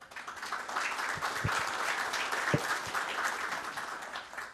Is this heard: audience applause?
yes